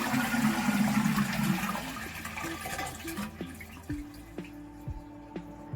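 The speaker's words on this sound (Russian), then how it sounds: "Сливаем воду." A toilet cistern flushes, a loud rushing gush of water that fades into trickling and dripping as the tank drains, heard up close in a bathroom.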